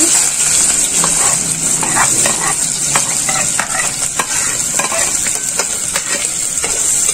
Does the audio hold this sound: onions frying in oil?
yes